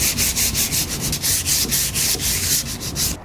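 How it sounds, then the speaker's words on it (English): Wood being hand sanded to strip the old finish from a nightstand: steady, rhythmic back-and-forth rasping strokes, close and loud, with no talk. "I'm going to hand sand the remainder of the finish on the nightstand"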